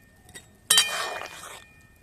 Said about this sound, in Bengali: এইবার আমি এই গরম শিরার মধ্যে এই ভেজে রাখা মিষ্টিগুলো দিয়ে দেব। এইভাবে একটু নাড়াচাড়া করে নেব।